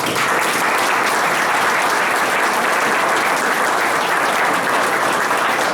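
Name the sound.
audience applause for Don Guillo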